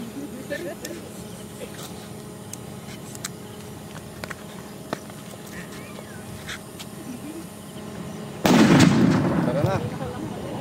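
A regular King Kong firecracker goes off in one loud, sharp blast near the end, with a crackling burst and rumbling tail, after quieter talk and scattered small pops.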